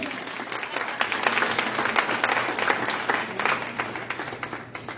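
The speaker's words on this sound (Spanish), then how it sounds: "Aplauda a mi hermano mientras yo respiro" A church congregation applauds steadily for several seconds, a dense, even wash of clapping that stays fairly loud throughout, with no voices standing out above it.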